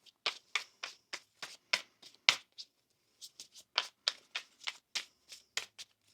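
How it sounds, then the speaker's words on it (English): Tarot cards are shuffled by hand, giving a series of crisp, close riffling snaps in an uneven rhythm with a short pause partway through, set against near silence. "One more shuffle now."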